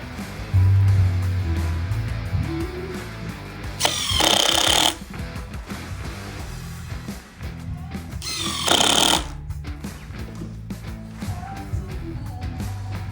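A power drill drives screws into a wooden luggage trunk box built for a Ford Model A. The loud, close drill whines in two bursts of about a second each, separated by quieter handling noises and knocks on the wood.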